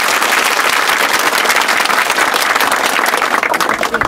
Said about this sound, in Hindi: अरे अच्छे से ताली बजाओ